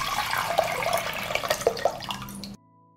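About 1.5 liters of water poured into a cooking pot, a close, splashing, gurgling stream that runs for a couple of seconds and then stops abruptly, leaving a faint hum.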